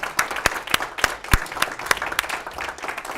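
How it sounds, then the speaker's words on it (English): A small audience claps after a talk, a few seconds of fairly close, uneven hand claps with distinct individual slaps rather than a dense roar. "Let's all give them a round of applause."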